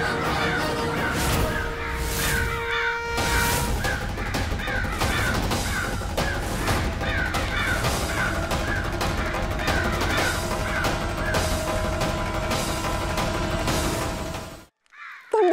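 A crow caws repeatedly during a Hindu puja ceremony in a palace, its harsh calls recurring steadily over a dense, loud background before stopping abruptly near the end.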